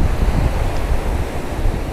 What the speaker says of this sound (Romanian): bate foarte, foarte tare vântul și valurile sunt destul de mari